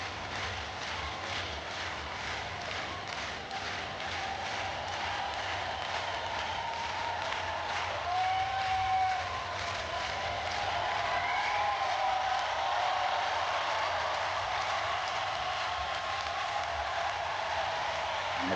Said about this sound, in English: And the crowd enjoying the anticipation of these final few minutes before the opening throws